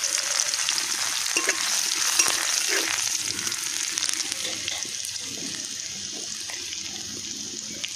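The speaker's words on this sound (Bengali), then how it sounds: "আর একটু রাঁধুনি আর জিরে ফোড়ন দিয়ে দিচ্ছি।" Radhuni, cumin seeds and crushed garlic fry in hot oil, a steady soft crackling sizzle with occasional stirring clinks, fairly quiet and close, fading slightly toward the end.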